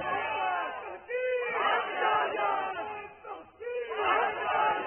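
A large crowd at a religious gathering chants slogans in loud, rhythmic waves of massed voices, with bursts rising and falling over several seconds.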